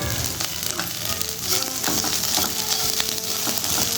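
Coriander and karpooravalli leaves sauté in a pan with a continuous crackling sizzle, broken by frequent clatters and scrapes of stirring close by.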